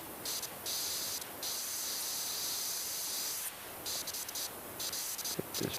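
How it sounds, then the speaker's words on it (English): A pressure washer sprays steadily in PowerWash Simulator 2, a continuous loud hiss that runs with brief breaks and no talking. "let's spray this off here for a second"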